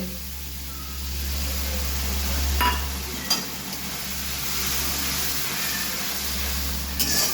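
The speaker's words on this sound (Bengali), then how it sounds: "তো কিছুক্ষণের জন্য আমি মশলাটা কষিয়ে নিচ্ছি।" Spice paste sautéed in a pan for a fish curry, a steady soft sizzle with faint scraping of a spoon and a couple of sharp clicks, continuous and moderately close throughout.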